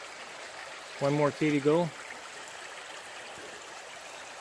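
Clonard Creek on the West Coast Trail flows with a faint, steady rushing hiss, briefly interrupted by a short spoken phrase.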